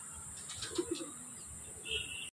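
Kerala breed pigeons in a loft at Ranaghat give a few soft, low coos and faint chirps, close but quiet, over a hushed background.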